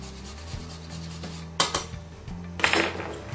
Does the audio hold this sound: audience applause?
no